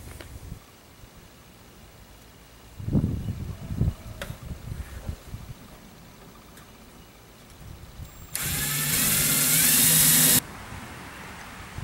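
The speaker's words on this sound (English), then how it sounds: "I'm going to use the self-drilling screw that came with the kit to mount the relay." A power drill drives a self-drilling screw to mount a relay on a 2010 Silverado during a train horn kit install, a loud whirring burst of about two seconds that follows some quieter handling knocks.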